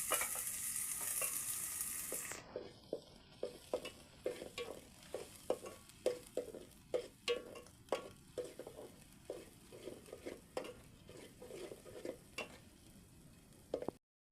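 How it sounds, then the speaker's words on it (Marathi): Grated coconut being sautéed and stirred in a pan for chicken curry, with a steady sizzle under repeated scraping strokes of the spoon at an even rhythm, close and fairly quiet. "खोबरं चांगलं परतून घेऊयात."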